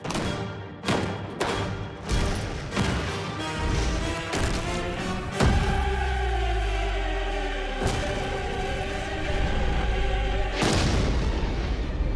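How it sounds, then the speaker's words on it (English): A big explosion set off in a blue ice myth test, heard as a series of heavy booms and thuds followed by a deep, rumbling blast that lingers, loud and with no talk over it. "Jamie wants Big Boom."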